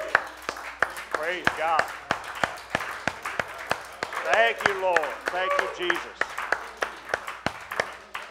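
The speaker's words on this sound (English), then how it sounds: "Give the Lord a hand clap." A church congregation at a Sunday service claps in a steady, evenly spaced rhythm of sharp hand claps while a voice speaks and praises over them.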